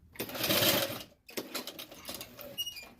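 Sewing machine stitching an overlap tack so the needle lands back in its starting hole, a close burst of rapid whirring, a brief pause, then a lighter, quicker run.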